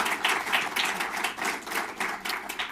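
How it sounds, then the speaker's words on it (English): Applause from a conference audience at a London finance and investment forum, a moderate crowd clapping in an even, pulsing rhythm that continues steadily without any talk over it. "A round of applause for her,"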